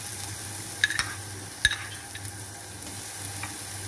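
Chopped garlic and ginger sautéing in oil for a fish chilli sauce, giving a continuous close sizzle with a few sharp clinks of a utensil against the pan. No voices.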